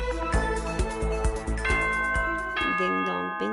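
The chiming school announcement jingle from the video game Danganronpa rings out as a bright melodic bell sequence of several tones that stands alone, loud and clear.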